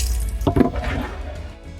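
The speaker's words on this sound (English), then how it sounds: "our water pump works pretty nicely" Water from a small pump runs into a campervan kitchen sink, a close, steady flowing splash with a brief louder gush partway through.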